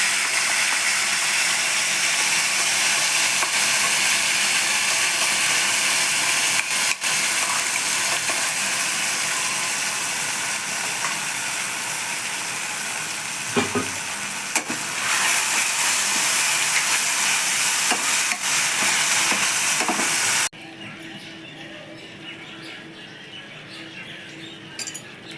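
Spice paste for chhana kofta fries in a pan with a loud, steady broad hiss that runs for about twenty seconds, then drops off sharply to a quiet background.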